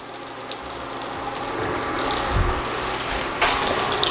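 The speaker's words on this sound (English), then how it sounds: "I'm gonna fry 3 at a time" Rice fritters fry three at a time in hot oil over medium-high heat, giving a steady, continuous sizzle and hiss heard up close with no talking.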